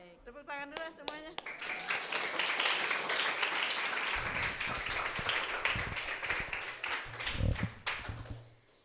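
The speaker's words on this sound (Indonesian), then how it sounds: "Baik, tepuk tangan dulu semuanya." Audience applause and clapping fill a hall at the Slamer Expo 2022, a broad sustained wash of many hands lasting several seconds, with a voice speaking briefly at the start.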